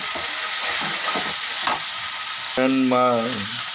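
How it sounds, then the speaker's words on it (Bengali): Onion with ginger, garlic and cumin frying and being stirred in a pan: a steady, close sizzle runs throughout, with a brief tonal squeal of the pan near the end. "দেখেন নাড়া দিচ্ছে।"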